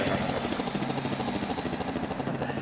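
Helicopter in the video game Scribblenauts Unlimited, its rotor a steady loud chopping drone with a rhythmic pulse, continuous and close throughout, with no talk over it.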